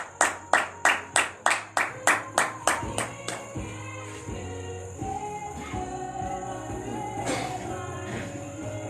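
Rhythmic hand clapping in worship, about a dozen sharp even claps in the first few seconds, then trailing into murmuring voices and room noise.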